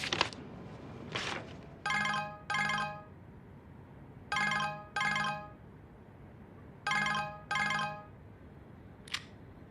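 A telephone rings in paired electronic bursts, repeating three times with short gaps, clear and close in a quiet film scene with no talk.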